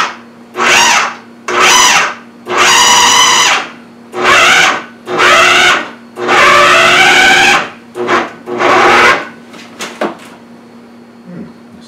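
A food processor mixes brioche dough after the remaining flour goes in, running in about seven loud grinding pulses of roughly a second each, separated by brief pauses, ending in quieter clatter.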